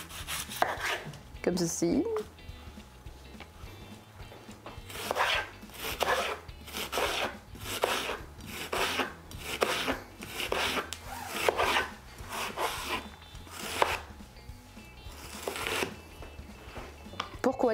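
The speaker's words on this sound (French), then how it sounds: "on va couper les oignons de façon un peu grossière" Onions are chopped coarsely with a knife on a board, in repeated bursts of rapid blade strikes separated by short pauses, with a person speaking briefly now and then.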